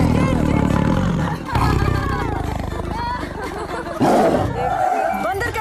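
A person imitates a lion roar, giving loud, rough, growling bursts with a short break partway through and a harsh surge near the end, over a busy background of voices and crowd babble.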